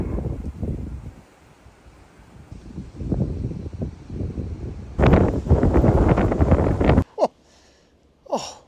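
Gusting wind during a storm at a campsite buffets the microphone in uneven rumbling surges, swelling to a loud roar midway before dropping away into brief lulls.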